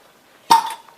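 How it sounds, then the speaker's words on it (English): A lid pops open on a glass jar of freshly home-canned tomatoes, giving one sharp close clink with a brief ringing tail and a small follow-up click. "That's the sound of freshly canned tomatoes"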